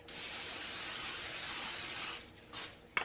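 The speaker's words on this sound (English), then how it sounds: "respray it with olive oil spray" A close, steady hiss of an aerosol olive oil cooking spray over a foil-lined pan for about two seconds, followed by a couple of short spritzes.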